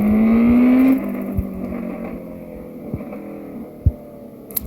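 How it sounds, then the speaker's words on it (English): A fuel-injected gasser engine runs on a dyno, starting with a loud rising rev that holds a steady high pitch for about a second, then settling into a lower rumbling idle with a few sharp pops. "Let's throw this on the dyno. See how much power I'm making on a fuel injected motor."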